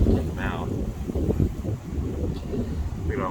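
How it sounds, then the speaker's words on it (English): Strong wind buffets the microphone in a continuous low rumble during a beehive inspection, with a few faint chirps and muffled voices beneath it. "It's kind of windy right now."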